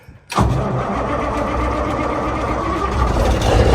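A truck engine cranks and catches, then settles straight into a loud, steady, close rumble that carries on with no talk over it.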